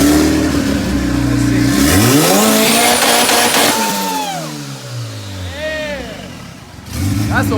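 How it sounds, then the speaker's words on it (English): All-wheel-drive turbocharged Honda on a dyno with a race two-step launch control, engine loudly revving and rising in pitch with rough popping, then easing off and rising again near the end, with people talking over it. "we got the race 2-step on for all-wheel drive"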